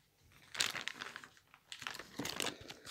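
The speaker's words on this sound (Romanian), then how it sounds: "Scot din pungă, haideți să scoatem din pungă." Plastic bag crinkling and crumpling as a scooter brake lever is taken out of it, close and fairly quiet, in a few irregular bursts of rustling.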